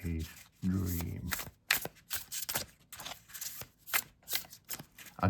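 Tarot cards printed on linen cardstock being shuffled by hand, a run of crisp papery riffles and flicks in quick irregular bursts, close and clear, with a person briefly talking at the start.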